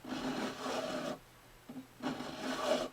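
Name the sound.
file removing glue from a guitar nut slot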